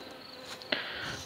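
Agitated honeybees buzz at an apiary in Berindei, a faint, steady, continuous hum with a single brief click partway through and no voices.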